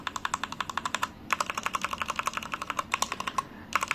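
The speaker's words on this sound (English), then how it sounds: "This Red Dragon keyboard has Wano red switches," Rapid, steady typing on a Redragon mechanical keyboard with linear red switches, close and crisp, with dense keystrokes broken by two short pauses.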